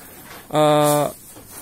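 A goat bleats once, loud and close, in a pen where it is fed green fodder, the call lasting about half a second over quiet background.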